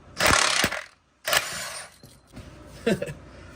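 Impact gun loosening very tight transmission bolts: two loud rattling bursts, then a shorter, quieter whir, all close up with no talking.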